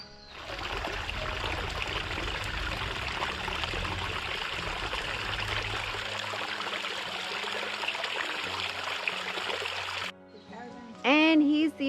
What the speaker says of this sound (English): You can also hear the running river